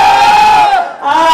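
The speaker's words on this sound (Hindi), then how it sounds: "थोड़ा चिल्ला के दिखाएंगे" A wedding sangeet audience at the Westin Hyderabad shouting together on the anchor's request, a loud burst of crowd yelling that dips briefly and surges again.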